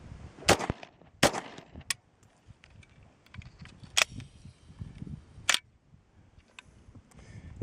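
A SIG ACP pistol fires about five sharp, loud shots at irregular gaps while its magazine is emptied, with quieter rustling and handling noise between the reports.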